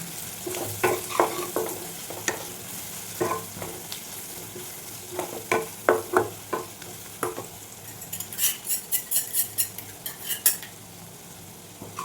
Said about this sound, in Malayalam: 1 ടീസ്പൂൺ മുളക് പൊടി, ഒരു 1/4 ടീസ്പൂൺ ഗരം മസാല. ഇതെല്ലാം കൂടെ ഒന്ന് മിക്സ് ചെയ്യാം.